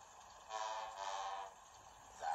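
Diesel engine horns from Thomas and Friends honk in two sustained blasts, reedy and mid-pitched and heard fairly clearly, followed by the start of another honk at the end.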